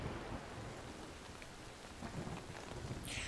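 Steady rain pours in the video game The Medium, a dense continuous hiss with low rumbling like distant thunder, no voices.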